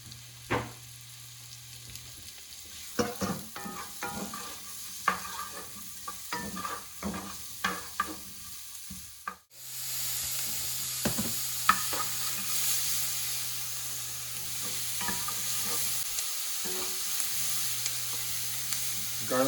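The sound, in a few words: garlic and onions sautéing in hot oil in a pan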